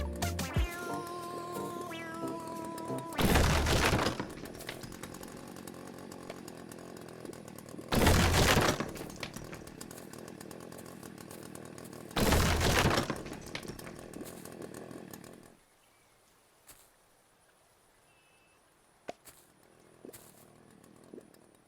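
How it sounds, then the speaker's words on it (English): Three heavy, loud sledgehammer smashes against walls in the game Berry Bury Berry, each a broad crashing burst spaced a few seconds apart over a steady background tone, then near silence with a faint click. "Using the newly unlocked Sledgehammer, you will destroy the confines of your small walled prison"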